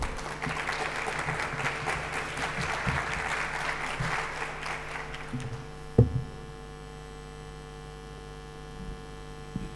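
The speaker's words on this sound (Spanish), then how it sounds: "Un fuerte aplauso, por favor." A university audience gives a welcoming round of applause lasting about six seconds, then it stops abruptly and leaves a steady electrical hum with a couple of faint knocks in the room.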